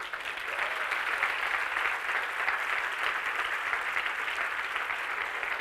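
An audience at a spiritual discourse claps steadily and evenly for several seconds, a dense, moderately loud wash of applause with no talking over it.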